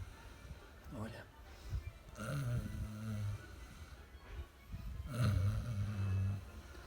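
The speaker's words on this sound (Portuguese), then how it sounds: "Meu Deus, como ele ronca." A man sleeping and snoring heavily, with two long, loud, rumbling snores a few seconds apart, close by and filling the quiet room.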